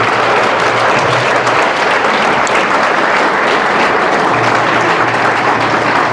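A large crowd at a martyrs' tribute event gives loud, sustained applause, a thick unbroken wash of clapping that fills the whole stretch. A low hum comes and goes beneath it.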